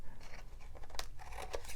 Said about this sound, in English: So let's just go ahead and get our scissors.